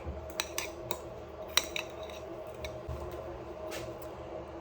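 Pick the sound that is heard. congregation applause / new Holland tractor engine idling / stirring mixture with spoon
stirring mixture with spoon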